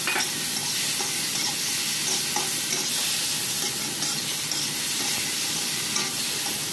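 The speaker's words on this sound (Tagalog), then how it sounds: "So ngayon, lagay natin ang ating karne kasi half cook lang siya." Half-cooked meat frying in a pan with sugar while being stirred, a steady loud sizzle with scraping stir strokes running throughout, no voices.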